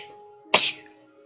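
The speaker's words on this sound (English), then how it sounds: "I had to sneeze in a video." A single sharp sneeze bursts out close to the microphone, brief and loud, over a quiet background with a faint steady hum from Minecraft gameplay.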